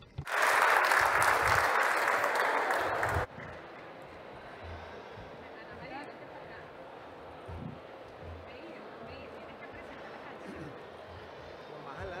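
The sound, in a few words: applause for a choir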